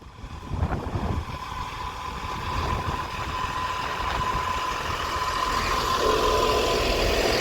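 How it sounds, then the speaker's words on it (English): A double Class 195 diesel multiple unit departs platform 14 at Manchester Piccadilly, its engines giving a steady, loud mid-pitched drone with a faint tonal whine that builds slightly as the train pulls slowly away. "That double 195 is departing platform 14 now."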